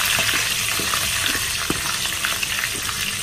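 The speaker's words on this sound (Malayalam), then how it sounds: "നമുക്ക് കറിവേപ്പിലെ വറ്റൽമുളകും ചേർക്കാം. ഇത് നന്നായിട്ടൊന്ന് ഇളക്കി" Curry leaves and dried red chillies fry in hot oil for an Onam sadhya koottukari, giving a close, busy sizzle broken by scattered clicks and scrapes as they are stirred, with no speech.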